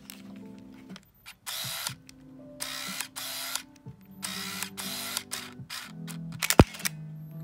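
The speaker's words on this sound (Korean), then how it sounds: "이렇게 셔터를 가만히 눌러주시면 알아서 찍어요" A compact point-and-shoot camera runs through several cycles of whirring motor and lens sounds, buzzing bursts separated by brief pauses, ending in a sharp shutter click near the end, close and clear with no talk.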